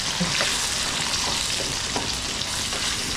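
Garlic, onion and ginger fry in a pan with a steady, close sizzle, and a few soft stirring clicks pop through the continuous crackle.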